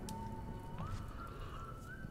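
Someone whistling inside a mine in the Choo-Choo Charles video game: a single sustained tune that slides up in pitch, set against a low rumbling ambient background and faint dripping.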